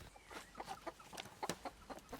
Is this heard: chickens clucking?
yes